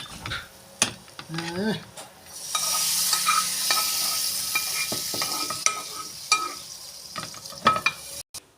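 Sauce poured over meatballs sizzling in a pan for Turkish sour meatball stew, the hiss swelling into a loud steady sizzle with stirring clatter and utensil taps, a voice briefly audible.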